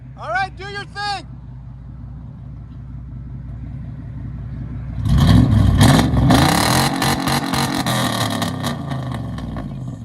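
A 2000 GMC Savana van with a 5.7L V8 and straight-pipe exhaust idles with a low, steady burble after a brief voice, then is revved hard into a loud, raspy roar that stays high to the end.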